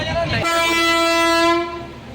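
A long-distance passenger train on the Durgapur to Jammu route sounds its horn close by, a loud sustained blast lasting over a second over the rumble of the moving train.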